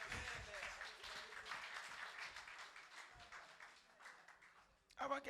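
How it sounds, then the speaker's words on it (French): A church congregation applauds in a sustained, moderately faint wash of clapping that thins toward the end, then breaks off into louder, closer sounds. "Acclamons pour eux."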